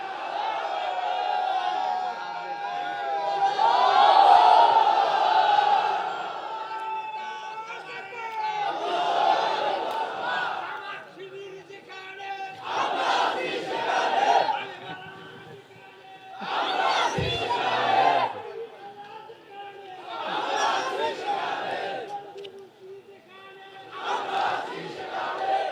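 A crowd at a Bengali religious gathering chants slogans in loud, rhythmic bursts, several surging call-and-response waves separated by short quieter gaps, voices massed and echoing.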